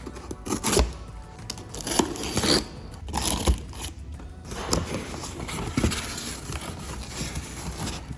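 A cardboard box holding carbon fiber car parts is opened up close: scraping, tearing and crunching of cardboard and packing material in uneven bursts, with no talking.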